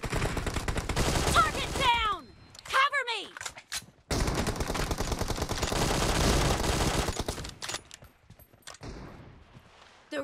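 Rapid automatic gunfire bursts ring out in PUBG Mobile gameplay, loud and dense with short sharp shots, brief pauses and whooshing effects between volleys.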